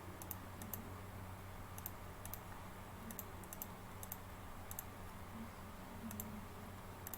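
Computer mouse clicking during an online quiz, a string of sharp small clicks in irregular pairs and clusters over a low steady hum, fairly close.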